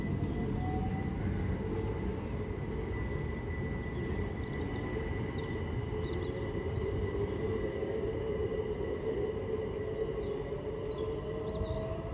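Great Western Railway passenger train from London Paddington to Didcot Parkway at Goring & Streatley station, a steady, moderately distant rumble of rolling wheels with a faint whine, continuous throughout with no voices.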